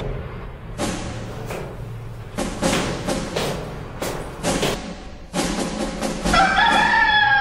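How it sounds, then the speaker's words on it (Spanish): A rooster crows loudly and close, after a series of heavy thumps and knocks, with the crow rising at the end. "los dejo con la leyenda militar, el gallo Marcel."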